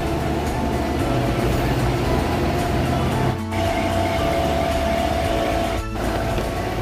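A Shivshahi bus bound for Shirdi pulls in at a busy bus stand, its engine a steady, loud droning rumble with a humming tone over crowd and traffic noise, briefly dipping twice.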